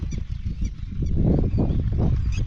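A red-wattled lapwing gives loud, harsh repeated calls close by, in a rapid series of strident cries with a brief quieter gap partway through.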